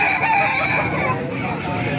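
Gamecocks crowing repeatedly close by, including White Hatch, Sweater and Kelso breeds, their calls overlapping against busy background noise with faint voices.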